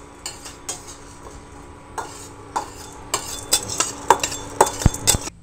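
Chana dal and other chutney ingredients toasting in a kadai give a soft sizzle beneath sharp scrapes and clinks of a spoon stirring against the pan, which come faster and louder toward the end.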